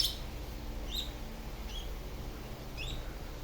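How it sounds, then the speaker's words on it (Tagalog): Young African bird chicks chirping, a few faint high chirps scattered over a quiet background. "Magkapatid na ibon ng African bird ay dito na."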